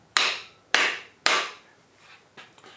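A hammer strikes a wood block to seat the thrust bearings on the crank of a John Deere 755 tractor, three sharp evenly spaced knocks, then a few lighter taps, close and clear.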